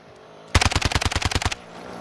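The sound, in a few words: gunfire in video game Warzone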